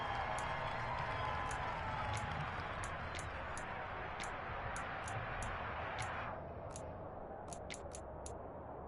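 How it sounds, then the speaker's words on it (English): A football stadium crowd in Madden 23 roars steadily as a big third down approaches, a dense wash of cheering with scattered sharp ticks and claps over it, easing slightly toward the end. "the crowd getting into it as we come up on a big 3rd down"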